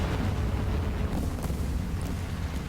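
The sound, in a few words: bombs exploding in video game War Thunder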